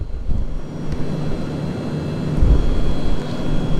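Inside the cabin of a 40-year-old Soviet Yakovlev Yak-40 jet airliner in flight, a constant low engine and air roar fills the space evenly throughout.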